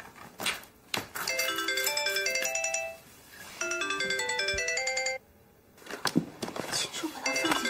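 A mobile phone ringtone plays a bright, tinkling electronic melody in two long bursts, separated by short pauses, with brief voices and clatter at the start and end in a tense indoor scene.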